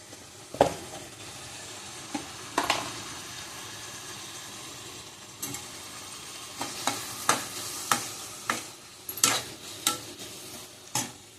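Tomato with turmeric cooks in a pan over a low, steady sizzle, while a spoon scrapes and stirs in irregular clusters of sharp strokes. No one speaks.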